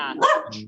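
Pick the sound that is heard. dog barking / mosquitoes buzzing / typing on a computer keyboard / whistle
dog barking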